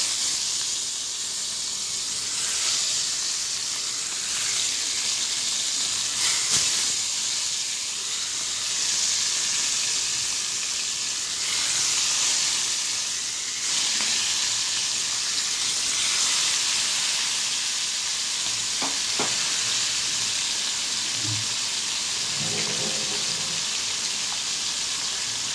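Fholi fish frying in hot oil in a pan, a steady loud hiss and sizzle running throughout with scattered crackles and pops and no talking.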